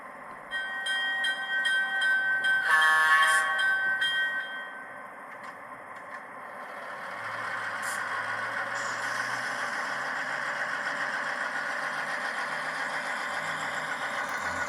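A model Santa Fe PA-1 EMD diesel locomotive in war bonnet colours plays its engine sound, opening with horn-like tones, then settling into a steady rumbling idle chant that runs on alone.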